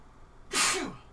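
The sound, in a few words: sneeze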